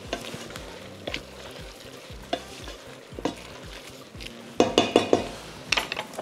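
Al dente spaghetti tossed from the pot into a frying pan for aglio olio sizzles steadily, broken by scraping stirs and sharp clinks of a utensil against the pan, close and clear.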